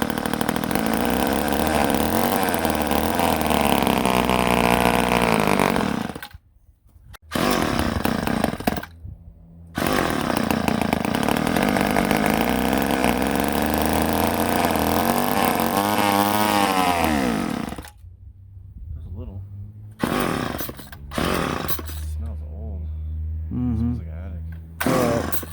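An old chainsaw, unused for over twenty years, roars at full throttle in long loud bursts, cutting out twice briefly, then drops to a rough sputtering idle with revving blips near the end.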